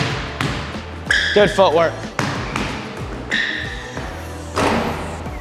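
A basketball dribbled on an indoor court during a pull-up shooting workout, several sharp bounces and thuds with squeaking shoes, a coach talking over the action.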